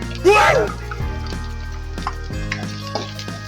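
Sliced green chili drops into a pan of frying onions for mussel adobo, with soft sizzling and several sharp utensil knocks against the pan over a low steady hum, under a brief voice.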